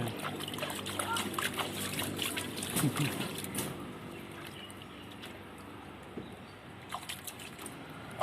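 Water splashes and trickles steadily, louder at first then settling into a gentle flow, with voices speaking nearby.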